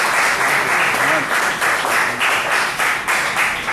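A church congregation claps loudly and steadily, many hands making a thick, continuous burst of applause that rolls on without pause.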